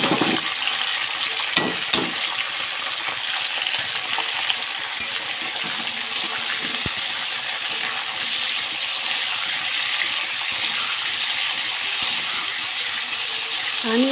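Green chillies frying in a hot pan with a spatula nearby, giving a steady, close sizzle and crackle throughout, with a few brief knocks of the utensil at the start.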